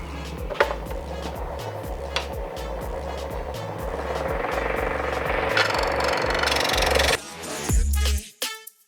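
A Laguna REVO 1216 woodturning lathe trims a wooden pepper mill, a steady spinning drone with repeated scraping bursts of the cutting tool that swell louder before the machine winds down near the end.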